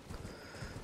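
Horse hooves clip-clop faintly in Elden Ring gameplay, a quick, muffled series of steps under a wash of game ambience and noise.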